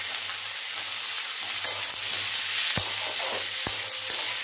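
Onion, potato and tomato sizzling in a pan as they are stirred, a dense continuous hiss with a few sharp utensil knocks and scrapes, close up and with no talk.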